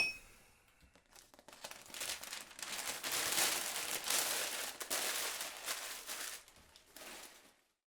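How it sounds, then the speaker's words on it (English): Packing paper being scrunched and crinkled around glasses in a cardboard moving box, a continuous close rustle that swells and fades over several seconds, with no talking. "So I want to scrunch the paper up to try and create a protective layer, which is going to stop the glasses hitting together."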